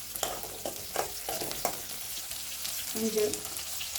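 Onions sauté in a pan for an anchovy fish curry, frying with a soft sizzle and repeated stirring scrapes. Brief clinks and knocks come through, along with a faint tonal chirp near the end.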